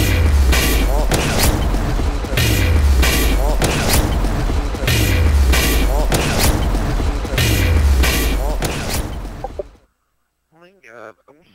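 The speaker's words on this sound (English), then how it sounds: "Throwing a stun grenade!" A stun grenade in Modern Warfare 2 goes off amid repeated loud booming blasts and gunfire with a mechanical clatter, ending abruptly in near silence with faint distorted ringing.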